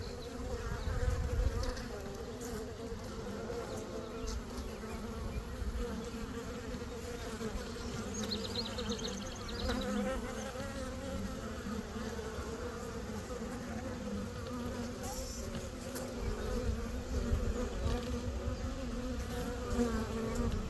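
Honeybees in an open hive during an inspection, with newly emerged bees, fill the air with a steady, dense buzzing that holds at an even level throughout, close by and continuous.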